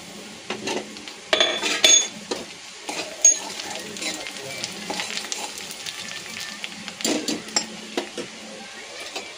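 Onion frying in a pan for Maharashtrian dal dhokali, a steady background sizzle broken by sharp metallic scrapes and clinks of a spoon against the pan, with a voice speaking at times.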